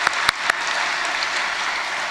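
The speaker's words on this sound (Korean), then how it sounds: "초등부도 초등부에서 축복의 박수" Congregation applauding in a church, a dense steady wash of clapping with a few sharper claps standing out near the start, continuous throughout with no talk over it.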